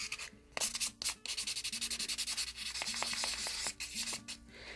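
Rhythmic, close-up sanding of opal polymer clay, with quick back-and-forth rubbing strokes repeating steadily and a few sharper scrapes in between.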